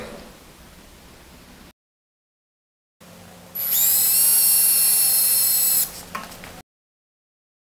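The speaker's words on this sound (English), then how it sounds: "The hole drilled for the bulkhead fitting, and that will go right there." A power drill whines loudly and steadily for about two seconds, boring a hole for a bulkhead fitting while installing an ARB Air Locker, with quieter workshop noise before and after and brief silent gaps.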